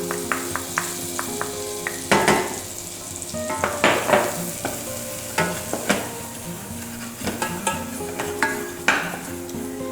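Chopped onion, tomato, garlic, bay leaf and peppercorns sizzle steadily in a pan as flour is added, with repeated stirring scrapes and clinks of a utensil against the pan over the frying hiss.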